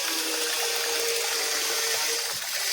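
Steady running water pours throughout while a pet dog is bathed, a continuous close hiss with no pauses and no voices.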